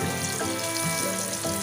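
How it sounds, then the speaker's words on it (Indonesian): Canned sardines fry in a pan over high heat, giving a steady, close hiss and crackle of hot oil throughout. "Karena saya gunakan api yang besar, jadi tidak lama. Kita gorengnya tidak lama."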